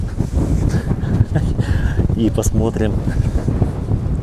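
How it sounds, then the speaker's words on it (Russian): Wind gusts roar across the microphone outdoors in Girona near the old city walls, a steady low rumble continuing beneath a person speaking. "Ой, ветер поднялся."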